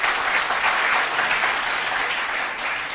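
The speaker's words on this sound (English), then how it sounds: "A round of applause for them, please." Audience applause for a school team in a quiz contest, a steady dense wash of clapping that holds at an even level for the whole stretch with no voices over it.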